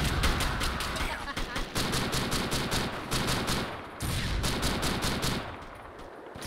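Rapid bursts of automatic gunfire in the video game Joint Operations: Typhoon Rising, loud sharp volleys rattling in quick succession with short pauses between strings of shots.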